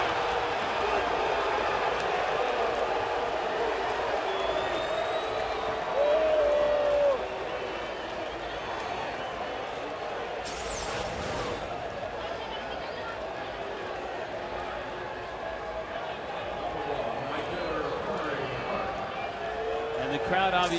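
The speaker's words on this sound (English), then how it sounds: "Crowd obviously not happy." A crowd at a Milwaukee-at-Florida baseball game, unhappy after a walk, makes a steady, distant roar and murmur that fills the background under continuous talk, with a brief swell in the middle.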